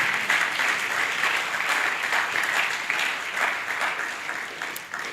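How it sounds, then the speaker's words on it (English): Audience applause at an African conference on artificial intelligence, a broad, sustained roar of clapping from a large crowd that holds steady and fairly loud for several seconds without letup. "Well done. Please clap."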